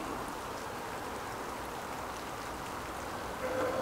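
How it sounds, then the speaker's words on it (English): Rain falls steadily at Hubbard's Hills near a river, a soft even hiss of drops that continues without break, faint and distant in tone. "It's still raining, and it's going to rain for a few hours."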